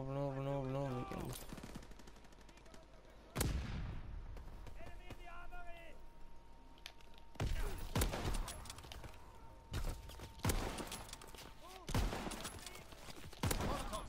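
Repeated bursts of grease gun fire in a WW2 video game, several loud automatic volleys spaced across the clip with short gaps between them, and people talking in between the bursts.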